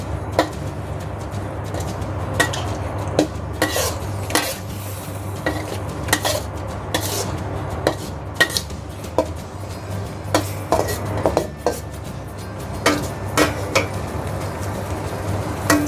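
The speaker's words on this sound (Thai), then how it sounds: "ผัดให้เข้ากันค่ะ" Minced chicken with plenty of spring onion and coriander is stir-fried in a pan for a spicy Thai chicken relish, a spatula scraping and clinking against the metal in a steady irregular rhythm over a low background hum, with no talking.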